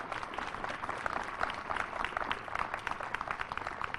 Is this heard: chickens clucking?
no